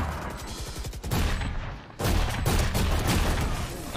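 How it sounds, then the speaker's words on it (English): Gunfire in the Valorant video game, rapid bursts of shots forming a dense fusillade, loud and close, with a short lull before a second volley, under faint voice chat. "I'm run shooting him."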